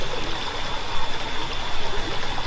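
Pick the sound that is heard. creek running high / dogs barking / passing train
creek running high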